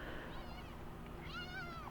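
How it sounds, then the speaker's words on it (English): Cat meowing near a 1976 Shasta travel trailer under restoration, two drawn-out meows close by over steady background noise. "Here's the cat."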